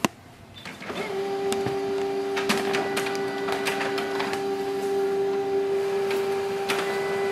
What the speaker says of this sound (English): So it is printing the final document.